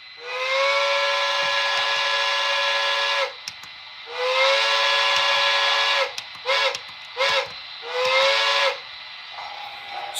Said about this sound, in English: I love the whistle on this thing